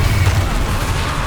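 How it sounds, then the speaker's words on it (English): In Hogwarts Legacy, a Confringo fire blast spell erupts in a dense, roaring explosion, a continuous rumbling burst of noise over about a second. "Confringo!"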